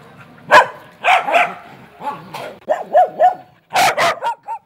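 Stray dogs bark in loud, close, overlapping bursts at a newly opened dog shelter, with repeated yips and deeper woofs in an irregular chorus and no talk.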